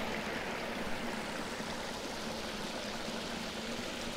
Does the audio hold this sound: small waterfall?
yes